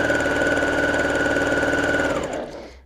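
bernette 08 straight stitch sewing machine running at medium speed, a steady close mechanical whir with a constant tone for about two seconds before it winds down and stops.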